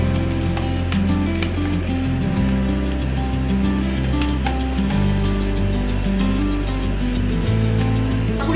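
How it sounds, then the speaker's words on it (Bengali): Carrots and beans fry steadily in oil and ghee with cardamom and bay leaf, a dense continuous sizzle with soft stirring, close and even throughout, while a low steady tone runs underneath. "গাজর আর বিনসটাকে ভালো করে আমি ভেজে নেব।"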